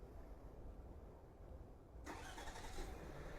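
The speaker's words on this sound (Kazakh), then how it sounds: "Машина от алды." A car engine cranks and catches after a remote key-fob start command, rising suddenly from a quiet outdoor hush into a steady idling rumble, heard alone at moderate distance.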